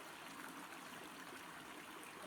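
Water in an outdoor stream runs in a gentle, steady wash, quiet and unchanging, heard alone.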